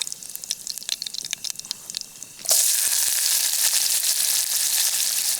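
Onions and green chillies hit hot oil with mustard seeds, cumin and dry chilli over a campfire, first scattered crackles and pops, then a sudden loud, steady sizzle that keeps going.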